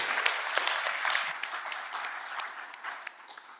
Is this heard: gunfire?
no